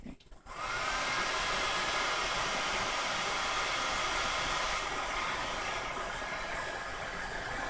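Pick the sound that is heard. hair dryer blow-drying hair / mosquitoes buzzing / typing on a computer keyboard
hair dryer blow-drying hair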